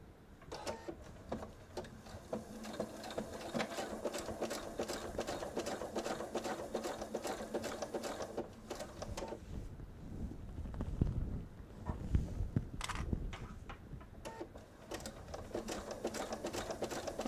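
A sewing machine fitted with a quilting needle stitches through thick layers of bag fabric, its rapid steady needle chatter running almost continuously, briefly slowing and pausing near the end before resuming.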